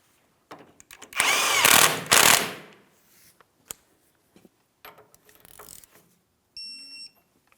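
Power tool work on the castle nut of a 2007-2014 GMC Sierra 2500 HD idler arm: two loud whirring bursts near the start, then scattered clicks and shorter runs, ending with a brief high tonal beep.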